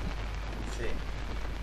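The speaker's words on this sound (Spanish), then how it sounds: "Está lloviendo ahí en el juego y está lloviendo acá." Steady heavy rain hisses in the horror game Outlast, a dense continuous wash of noise with a deep rumbling undertone.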